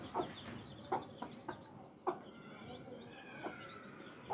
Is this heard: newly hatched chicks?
yes